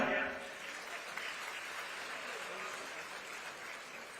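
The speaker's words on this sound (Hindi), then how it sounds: "जोरदार तालियां" Applause from an audience at a state-level workers' convention in Raipur, a broad steady wash of clapping held evenly for several seconds at moderate distance, with a brief voice at the very start.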